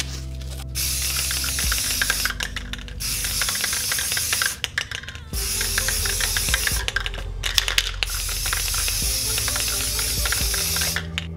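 Aerosol paint sprays onto the nailed head of a homemade WW1-style spiked trench club, a loud steady hiss in long bursts with short pauses between, close by with no talking.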